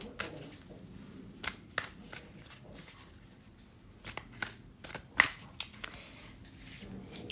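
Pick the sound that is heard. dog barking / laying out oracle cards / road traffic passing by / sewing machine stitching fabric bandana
laying out oracle cards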